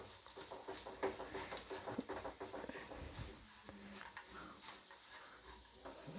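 A spoon stirs a thick, sticky dry fruit laddu mixture with dates in a pan, making soft, irregular scraping and patting sounds close by, faint and continuous with no voice.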